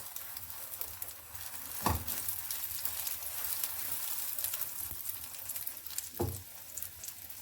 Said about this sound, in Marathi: तेल गरम झालेलं आहे आपण ह्यामध्ये फेटलेले अंडा घालून घेऊया त्यावर आपण एक ब्रेडची स्लाईस ठेवून टाकूया